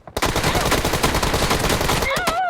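Sustained rapid automatic gunfire in the mobile shooter game PUBG Mobile, loud and dense for about two seconds, ending with a few final shots and a brief tonal effect.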